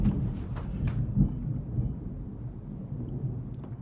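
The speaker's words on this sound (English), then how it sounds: "Wow, some big thunder." Deep thunder rolls through a storm, with loud rumbling bursts at first that fade into a low, distant grumble and no voices.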